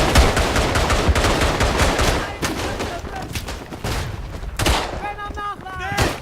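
Dense gunfire and machine-gun bursts in the World War I shooter Verdun, rapid cracks filling the first few seconds, then scattered shots and a sharp burst near the end, with a faint voice underneath.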